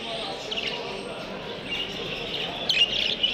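Budgerigars of the large jumbo type chirp and twitter continuously at a bird market in Manisa, a busy high chatter with a few brighter calls near the end, while people talk nearby.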